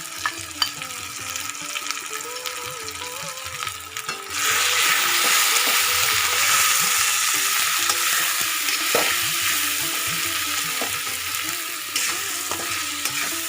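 Spice paste of turmeric and chilli powder frying in a pan for soybean curry, a soft sizzle that swells sharply loud partway through, with scraping stirs under the steady hiss.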